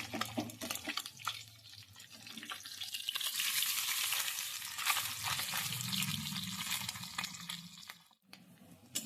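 Small mourola fish fry in a pan with a soft, continuous sizzle and spatter, swelling and easing as the fish are turned, fairly faint overall.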